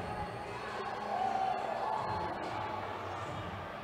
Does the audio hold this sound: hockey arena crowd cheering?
yes